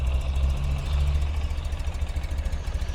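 A 2013 Ural Gear Up two-wheel-drive sidecar motorcycle with carburetors idles close by, a steady low, even engine rumble with a smooth pulsing rhythm.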